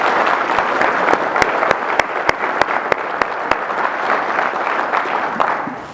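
Audience applause at a Surface Navy Association symposium for the events team: a broad wash of clapping with a few sharp, louder individual claps standing out near the front, fading slightly at the end.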